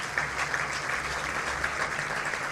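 An audience applauds for television staff at a Cameroonian media event, a faint, distant, even patter of clapping that runs briefly without any voices on top.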